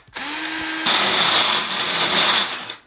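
A power drill fitted with a hole saw starts with a steady whine, then bites into the material with rough grinding noise for a couple of seconds before stopping. It is close and loud, and there is no talk.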